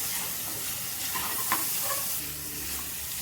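Carrots and green chillies sizzle in a hot pan, a steady frying crackle with occasional stirring scrapes, close and continuous without talk.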